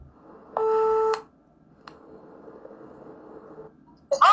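A telephone call is placed: a steady two-tone dial tone cuts off, a short keypress blip follows, then a faint extended tone before a brighter ringing burst at the end, all with no talking.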